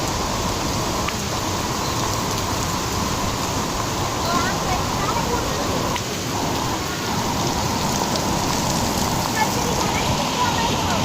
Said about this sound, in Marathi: कार जबरदस्त पाऊस झालाय.